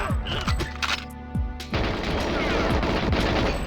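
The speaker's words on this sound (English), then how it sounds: "Security camera. Explodes." A security camera blows up in GoldenEye 007 on Xbox, set among rapid gunfire: a dense, loud run of sharp shots and booms gives way at the end to a sustained crackling burst.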